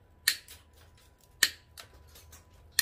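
Scissors trim a grapevine wreath for a moon-shaped craft, giving three crisp, quiet snips spaced about a second apart with faint rustling between them.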